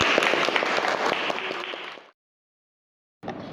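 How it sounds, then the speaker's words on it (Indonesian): Applause from a gathered group fills the first two seconds, then cuts to silence before clapping resumes briefly at the end, as if edited. "Tepuk tangan untuk kita semua"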